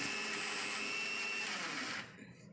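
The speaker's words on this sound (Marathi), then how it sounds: "खाली मिरच्यां ते वरून डाळ टाकलेली अगदी बारीक आपल्याला वाटून घ्यायची" A mixer grinder whirs continuously as it finely grinds dal with green chillies, a steady close motor whine that winds down and stops near the end.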